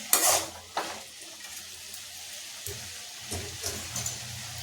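Red pumpkin sautéed with salt in a pan gives a steady close sizzle with several scraping stirs of a spatula and occasional clinks against the pan.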